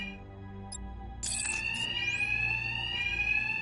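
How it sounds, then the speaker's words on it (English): Alarm bells ringing continuously in a Batman video game scene, a loud steady electronic tone that grows denser partway through with a sweeping rising note, no talk. "these thugs can't hear a thing over the alarms"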